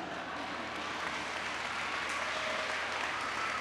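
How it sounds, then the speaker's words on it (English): An audience at a recreation center grand opening in DeKalb County applauds an 85-year-old woman, Ms. Shepherd, with steady, moderately loud, even clapping from a crowd that holds for several seconds without a break. "let me applaud Ms. Shepherd"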